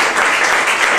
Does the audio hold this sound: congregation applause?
yes